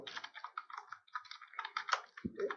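Quick typing on a computer keyboard while writing Java threading code: close, crisp key clicks in uneven bursts with short pauses and a heavier keystroke near the end.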